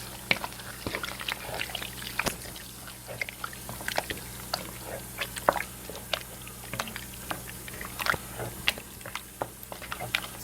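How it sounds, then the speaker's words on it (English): A spoon stirs hamburger goulash with sauce and water in a pot, making repeated wet squelching sloshes and light scraping clicks in an irregular rhythm, close and fairly quiet, with no talk. "And I'm just going to stir this up."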